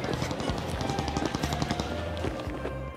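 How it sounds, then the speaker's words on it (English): Rapid bursts of distant video game gunfire in Cyberpunk 2077 crackle over a dense, busy background of rumble and noise, continuing steadily throughout. "the sounds of gunshots ring out in the distance"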